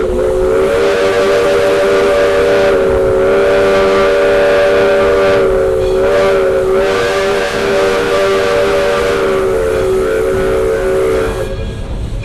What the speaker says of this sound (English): our engineer blowing that whistle with one short blast